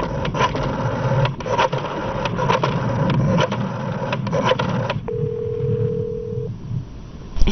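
A telephone call from a 1984 film begins with busy, clattering handset noise, then a single steady ringback tone sounds through the earpiece for about a second and a half before falling quiet.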